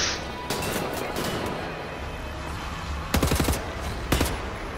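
Laser fire from a flying robot in Wolfenstein: The New Order, heard as steady game-combat noise with two sharp, loud bursts of rapid shots near the end.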